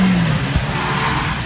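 A motorbike engine with a newly fitted exhaust system revs steadily and loudly up close, a continuous rough roar with a brief low thump partway through.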